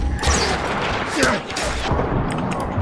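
Gunfire in the video game Far Cry 4 crackles in a dense, loud burst of rapid shots and impacts aimed at the player, with a voice talking over it.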